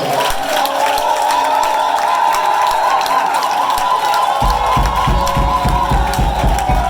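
Church congregation cheering and acclaiming the Lord during a service, a loud sustained crowd roar with shouts, joined midway by rhythmic low thumps like clapping or stomping.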